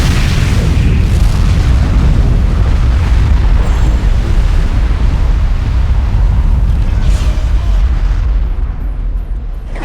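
A nuclear missile detonating in the real-time strategy game Command & Conquer 3, a loud, sustained rumbling roar that fills the whole stretch with dense low-end boom and slowly eases toward the end.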